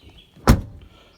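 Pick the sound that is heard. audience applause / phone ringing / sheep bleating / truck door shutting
truck door shutting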